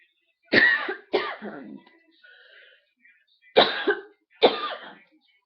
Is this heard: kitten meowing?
no